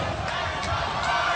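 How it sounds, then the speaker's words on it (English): A wrestling arena crowd at a TNA Lockdown event in Nashville roars and chants, a dense, steady wash of many voices with swells that never drops away. "Kurt trying to block out the crowd here in Nashville at lockdown"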